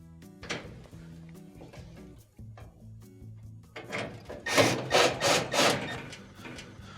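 Phillips head screws being driven back into a Frigidaire gas oven during an ignitor and orifice repair, giving faint scraping and clicking followed by a burst of several close, rhythmic ratcheting rasps from a screwdriver.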